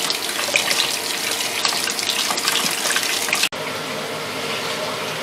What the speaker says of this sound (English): Washing your lids and rings to get them ready.